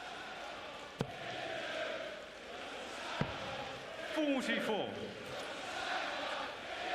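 A World Darts Championship crowd roars during Thibault Tricole v Motomu Sakai in 2026, a continuous din with whistles and rising chant-like calls beneath a commentator's voice, punctuated by a couple of sharp thuds.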